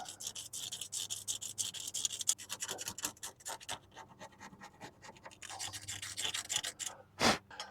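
Scrubbing at a corroded wheel bearing hub on a 2011 Chevy HHR, a close, rapid series of scratchy rasping strokes that stop and start, with a brief thud near the end.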